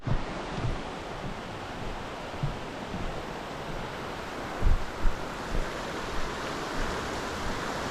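A clear, snowmelt-fed mountain river flows in a steady, broad rushing wash, heard from nearby with occasional soft low thumps, probably from wind against the microphone, and no voices.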